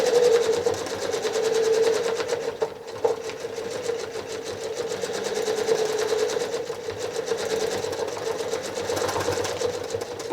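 Sewing machine travel stitching through a quilt, a steady fast rhythmic needle clatter that runs continuously and close, with only a brief dip in the middle.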